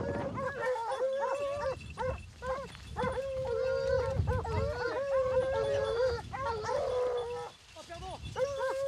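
A pack of hunting dogs bays and howls nonstop on a wild boar hunt in a French countryside setting, their overlapping, wavering cries loud and close, with a voice now and then beneath the chorus.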